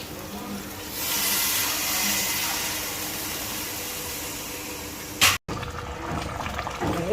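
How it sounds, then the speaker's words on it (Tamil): Water pours steadily into a pot of village-style country chicken curry for several seconds, then stops abruptly, followed by faint kitchen clatter. "நான் கொஞ்சம் கட்டியாக வைக்க போகிறதால 1 கப் தண்ணி மட்டும் ஊற்றிக்கிறேன்"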